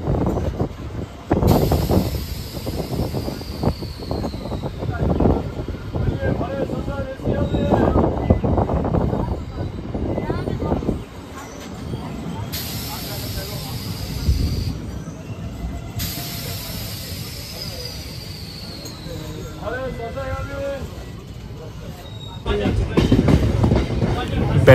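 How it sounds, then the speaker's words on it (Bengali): Sealdah–Godda MEMU fast passenger train rolling through a long curve into Bandel Junction, with rumbling wheels and clatter, brake or air hiss, and wheel squeal on the bend; voices can be heard along with it. "আমাদের ট্রেন সুবিশাল একটা কার্ভ নিয়ে প্রবেশ করছে ব্যান্ডেল জংশন।"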